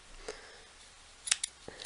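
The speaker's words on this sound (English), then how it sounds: "you can just snip this end off" Scissors snip through the yarn end of a pom-pom, with a few sharp, close cuts in quick succession and short quiet gaps between them.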